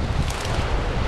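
Wind blowing at Arıburnu beach on the Gallipoli peninsula, a steady broadband rush buffeting the microphone close up, with no pauses across the short stretch.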